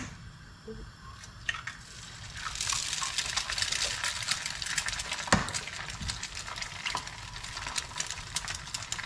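Two large eggs fry in a small amount of oil in a pan, a soft sizzle that swells after a couple of seconds and holds steady, broken by a few light scrapes and taps.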